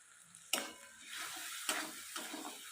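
Spices sauté with salt and turmeric in a pan, giving a soft sizzle broken by four sharp spatula scrapes and clinks, nearby and alone with no speech.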